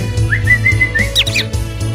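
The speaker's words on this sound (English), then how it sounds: "Look at that bird." In the Wii game Santa Claus Is Comin' To Town, a bird gives a rising whistled chirp followed by a quick flurry of sharp tweets, loud and close over a low game backdrop.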